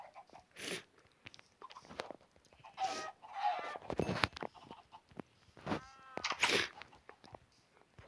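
Chicken clucking in a farming video game, several short bursts scattered through the clip with quiet gaps between them and no talk.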